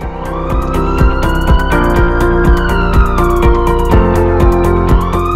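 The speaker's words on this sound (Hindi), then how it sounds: "24 घंटे एम्बुलेंस सुविधा उपलब्ध," Loud ambulance siren sounding without pause, its wailing tones sweeping up and down over a repeated rhythmic pulse, as used in a promotional announcement for a multi-specialty hospital in Pathankot.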